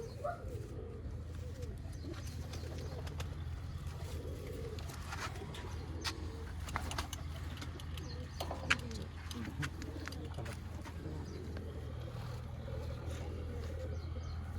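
Pigeons cooing steadily among a rooftop loft flock during pigeon flying, with a low engine-like rumble underneath and scattered wingbeat flutters and bird calls throughout.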